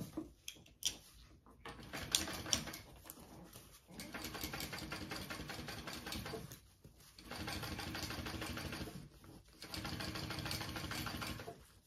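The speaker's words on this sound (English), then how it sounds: "you are going to top stitch along this top panel piece" A sewing machine top-stitches along a handbag's top panel in several steady runs of a few seconds each, with short pauses between. Light handling noise fills the gaps.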